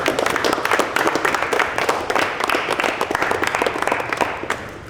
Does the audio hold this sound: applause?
yes